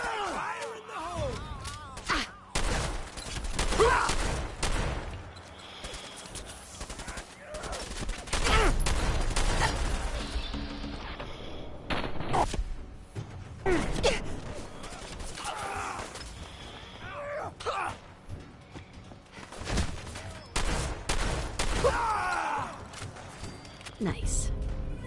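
Bursts of gunfire during a gunfight in the video game Fallout 4, irregular loud shots and volleys scattered across the stretch, mixed with voices, grunts and gasps from characters.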